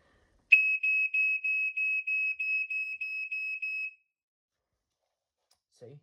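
Optical photoelectric smoke alarm sounding a test, a loud, close, shrill pulsing beep lasting about three seconds, then quiet, with a brief low sound at the end.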